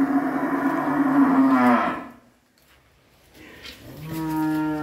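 Cattle at a Vinh Long cattle farm, a pen of cream and 3B breed cattle, low the loud, drawn-out moos near the start and again at the end, with a quieter gap between.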